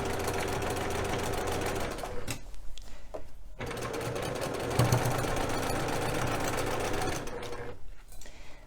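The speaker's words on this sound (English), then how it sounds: "So let's go ahead and just put your 1/4 inch seam all the way down." A sewing machine runs a quarter-inch seam along quilt fabric, a loud close mechanical whir that stops briefly twice before carrying on, with no voices.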